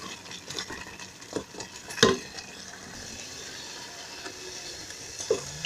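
A wooden spoon stirs thick papaya compote in a pot, giving soft scraping and bubbling with one sharper knock against the pan midway, fairly quiet and close with no talk.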